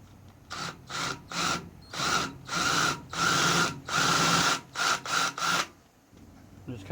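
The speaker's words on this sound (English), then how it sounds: "I just take a little bit larger drill bit" A power drill with a slightly larger bit boring out a hole in a homemade carbide lathe tool, running in a series of short close bursts separated by brief pauses.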